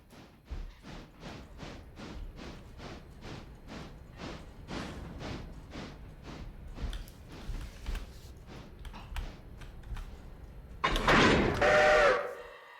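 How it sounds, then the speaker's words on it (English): A steam locomotive in the Railroader video game works along with rhythmic chuffing, ending in a loud, close whistle blast sounded for a crossing. "The auto engineer is very astute about whistling for crossings, which is good."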